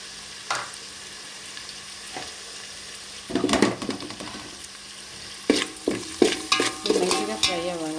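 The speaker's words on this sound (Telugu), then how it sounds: "మంచిగా ఫ్రై అవ్వాలా." Ginger garlic paste fries in a pan with chili powder, salt and turmeric for avakaya biryani, giving a low sizzle broken by bursts of scraping and stirring, which grow busier toward the end.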